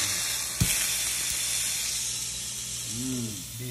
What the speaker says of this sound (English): And we got some burger browning.